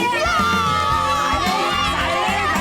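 A crowd of children shouting and chattering at a school, a dense, loud, continuous din of many young voices with no pauses.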